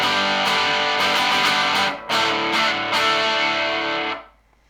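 Heavily distorted electric guitar plays a rhythm part, with sharp chord hits and short choppy stabs, one brief gap, then a final ringing chord that cuts off into silence.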